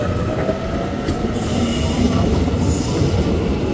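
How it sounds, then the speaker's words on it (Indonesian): A train passing close by, loud continuous rumble of rolling wheels with rising metallic squeals, steady throughout, no voices. "Berhenti dulu ah, lihat kereta lewat."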